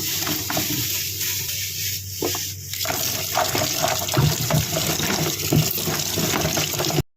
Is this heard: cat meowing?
no